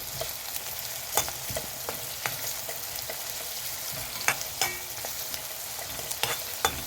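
Onions sauté in a pan with a steady sizzle, while a spoon scrapes and taps the metal in irregular clicks throughout, close and moderately loud, with no voices.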